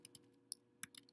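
Fingers tap on a computer keyboard in a few quick, faint clicks, with short irregular gaps between keystrokes over a low steady hum.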